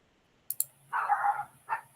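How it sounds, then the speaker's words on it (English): Small dog yelping outdoors, one long whining yelp followed by a shorter one, heard at a distance after a couple of nearby keyboard clicks. "Someone stepped on the little dog, considering the sound."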